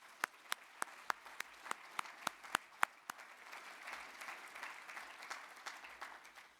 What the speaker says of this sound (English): If you could join me in a little round of applause to thank them for their work